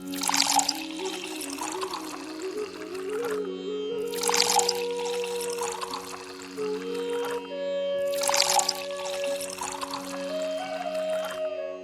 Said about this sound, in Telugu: చింతపండు పులుసు పోసేసుకోవాలి.